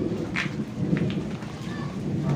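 Steady rain pouring down during a flood, a dense broadband hiss with a low rumble beneath, continuous and fairly loud throughout with no voices.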